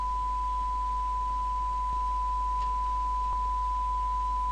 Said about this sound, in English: Generate a 1 kHz sine wave.